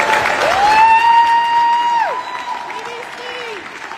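Audience applause with some cheering fills a press conference at the grand opening of New York City's Shirley Chisholm Recreation Center. A sustained whistle tone rides over the clapping, which fades to a softer patter toward the end.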